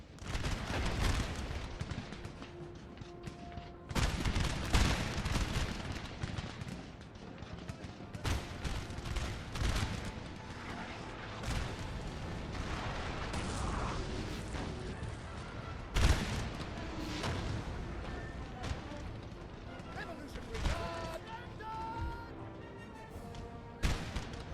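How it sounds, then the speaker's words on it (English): Repeated musket volleys and booming artillery fire from a Napoleon: Total War battle, with dense crackling salvos and heavy thuds rolling on steadily at close range. "Open fire. Artillery."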